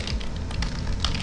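Rapid, close clicking of keys on a computer keyboard, steady and uninterrupted for about a second.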